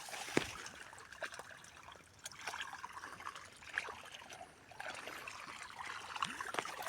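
Irrigation water flows and trickles faintly in an open channel, a soft uneven gurgle with small splashes, moderately distant.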